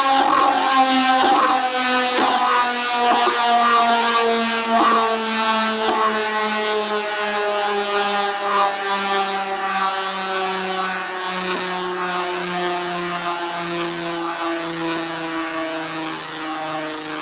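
A Beyblade Meteo L-Drago LW105LF spinning on a stadium surface, a loud, sustained whirring drone with a steady pitch that slowly falls as the top loses speed, alone with no voices.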